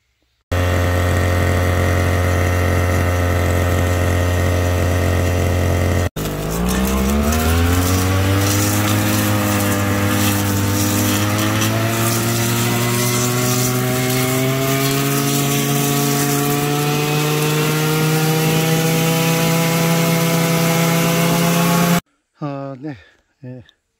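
A brush cutter trims grass in hot summer weather beside a planted row of trees, its engine droning loud and close for nearly the whole stretch, pitch shifting as it revs up and settles, then cutting out.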